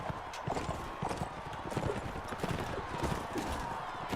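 Steady clip-clop of horse hooves at a brisk pace in a Mount & Blade: Warband tournament, fairly close, over a dense background of battle noise and faint voices.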